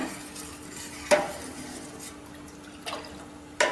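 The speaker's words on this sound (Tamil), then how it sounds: "தூர்ல பிடிக்காம நல்லா கிண்டி விட்டுக்கோங்க" Thick milk being stirred in a pot as it boils for setting curd, a quiet steady scrape with a few sharp clinks of the spoon against the metal sides.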